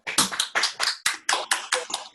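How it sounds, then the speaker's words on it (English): A thesis defense ends with a short burst of nearby hand clapping, about nine crisp, evenly spaced claps in a little over two seconds, sounding like one or very few people. "A round of applause for Alejandra."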